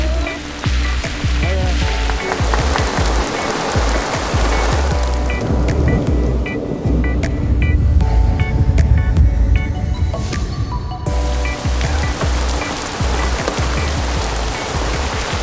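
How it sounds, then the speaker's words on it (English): Rain arrives ahead of a long bike ride, first big fat drops pattering and hissing steadily on surfaces outdoors, a continuous close wash of sound with no talking. "We're getting our first big, fat raindrops."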